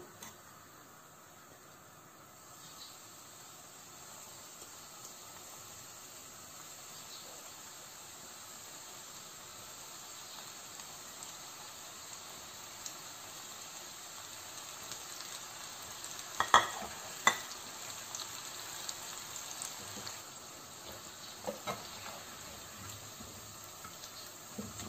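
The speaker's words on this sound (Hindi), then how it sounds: "अब हम बाकी के भी फ्राई कर लेते हैं" Onion rings frying in hot oil in a home kitchen give a steady, moderately quiet sizzle throughout, with a few sharper pops and clatters near the end.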